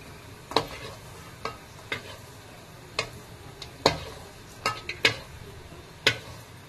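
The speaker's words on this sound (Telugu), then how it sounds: "ఇప్పుడు జీడిపప్పు వేగిపోయిందండి." Cashew nuts finish frying in a pan while a spoon knocks and scrapes against it, giving sparse sharp clinks over a faint background sizzle.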